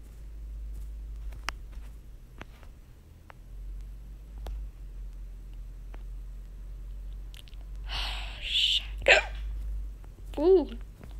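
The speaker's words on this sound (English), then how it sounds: "Might have the hiccups in this." Hiccups from a person, two or three sharp, abrupt vocal bursts close to the mic late in the clip, after a long stretch of faint background noise and scattered small clicks.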